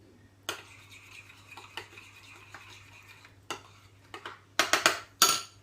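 A spoon stirs garlic into homemade pesto in a bowl, giving soft scraping swirls that end in several sharp metallic clinks against the side, with no one talking.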